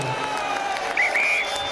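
Crowd noise at a Batley versus Barrow rugby league match, a steady murmur of spectators in a full stand with a brief rise of cheering midway, heard under a commentator's voice.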